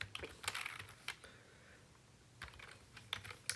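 Fingers tap out a postal code on a computer keyboard in short bursts of light, close key clicks separated by a brief pause, with no one talking.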